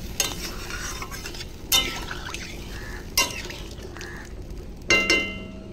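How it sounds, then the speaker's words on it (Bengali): Vegetables with water added are stirred in a pan for a Bengali fish curry with mustard paste and potato, giving soft wet scraping and sloshing, with a few sharp clinks of the spoon against the pot, close and fairly quiet. "জলটা দিয়ে ভালো করে নাড়িয়ে দেব।"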